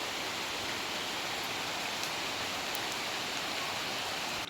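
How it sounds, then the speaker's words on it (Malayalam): Heavy rain pours down on a slippery, moss-covered road in Kerala, a dense, unbroken hiss that stays loud and even from start to finish, with no voices. "ഇതാ പോവുകയാണ്, നല്ല മഴ."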